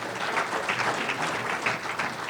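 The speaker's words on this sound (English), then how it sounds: "Let's give them a round of applause" Attendees at a sports awards ceremony give a round of applause, a soft, somewhat distant ripple of many hands clapping evenly, continuous and fairly quiet.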